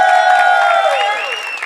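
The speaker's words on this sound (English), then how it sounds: "Ladies and gentlemen, keep that applause going for Gina" A comedy show audience applauds and cheers for comedian Gina Brillon, a steady wash of clapping and crowd noise, loud and close, with a sustained tonal sound layered over it that fades slightly toward the end.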